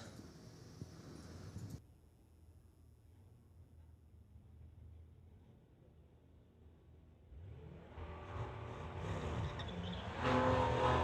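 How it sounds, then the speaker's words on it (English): A Porsche launches off the line at a street-legal drag race, its engine rising from a quiet idle into a growing roar that gets louder and closer through the final seconds. "that Porsche just launching"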